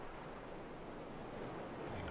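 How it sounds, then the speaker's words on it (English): Ocean waves and wind in the survival video game Raft give a steady, even wash of surf and airy rushing with no breaks. "listen to the sound of the ocean,"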